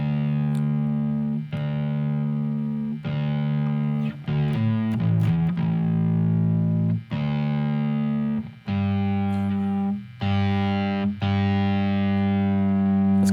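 Bass guitar strings being tuned through an effects unit, sustained low distorted notes repeatedly plucked and held, with brief pauses and pitch adjustments between plucks, alone without talk.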